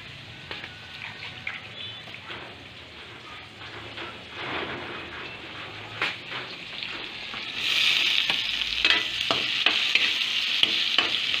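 Bitter gourd (ampalaya) is sautéed in a pan, with a steady hiss of frying and scattered utensil scrapes, and the sizzle grows louder and brighter partway through.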